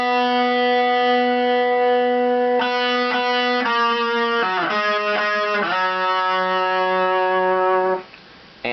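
Distorted electric guitar fill, a sustained chord followed by a few choppy chord changes, loud and alone, ending with a brief drop-out.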